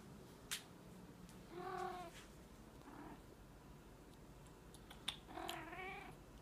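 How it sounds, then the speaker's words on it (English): A pet cat gives a few quiet, separate meows, a short one early and longer ones later, near and soft over a faint background hiss. "Here's my cat."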